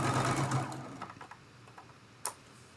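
A sewing machine stitches quilt seams for a Dresden Plate block made from charm packs, running in a fast, close whir for about a second before stopping, followed by a few scattered light clicks and one sharp tap.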